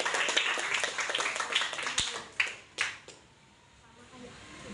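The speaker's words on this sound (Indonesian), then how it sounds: "Tepuk tangan buat Bapak Akhir" Classroom of students clapping together in a brisk burst of applause that fades out after a few seconds, leaving quieter room noise.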